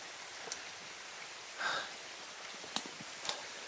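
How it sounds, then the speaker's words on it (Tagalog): Heavy rain pours steadily as a constant broadband hiss, with a few louder splashes and drips standing out above the wash. "ang lakas ng ulan guys"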